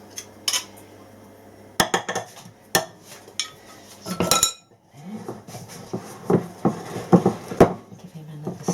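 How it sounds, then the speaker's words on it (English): Rich fruit cake mixture is stirred in a bowl, a series of close spoon clinks and scrapes against the bowl in irregular bursts with brief quiet gaps, no talk. "Give him another stir."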